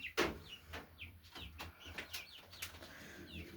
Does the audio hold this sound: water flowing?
no